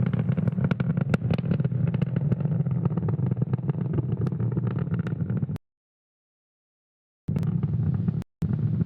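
Falcon 9 rocket engines roar during ascent near max Q, a steady dense broadband rumble with faint crackle that cuts off abruptly to silence before returning briefly twice.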